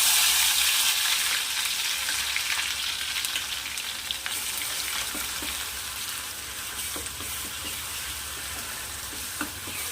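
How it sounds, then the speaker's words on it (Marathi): Ground spice paste frying in hot oil for a drumstick curry, a loud continuous sizzle that eases slightly as it settles, with occasional soft stirring clicks close by. "आता वाटण ॲड करते तेलामध्ये"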